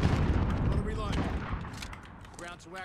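Kilo 141 assault rifle fired in a first-person shooter game, a dense rattle of rapid gunfire and booms at the start that thins out, with a player's voice talking over it.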